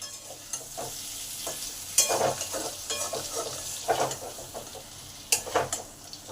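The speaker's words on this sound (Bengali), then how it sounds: "পটল আমার ভাজা হয়ে গেছে" Pointed gourd frying in oil sizzles steadily in a pan while a utensil stirs and scrapes it in irregular bursts, with a few sharper clinks against the pan and no speech.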